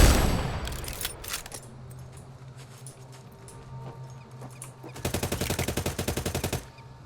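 Rapid automatic gunfire in the night-time video game Redfall, with scattered shots early on and a loud, fast burst of regular rounds near the end, no talk.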